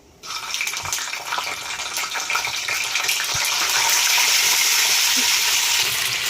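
Whole eggplants for gutti vankaya masala frying in hot oil with cumin, a loud, steady, close sizzle that swells after the first moment and holds, with occasional stirring knocks.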